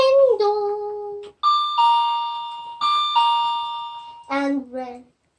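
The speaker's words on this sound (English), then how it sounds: "the doorbell rang. Ding dong." Doorbell chiming a two-tone ding-dong in a children's puppet play, ringing twice in a row with bright sustained tones, framed by a voice speaking just before and after.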